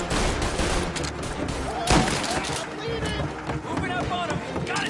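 Gunfire crackles through a busy firefight in Mafia: Definitive Edition, dense bursts layered with engine noise and shouting voices, with one sharper shot standing out midway.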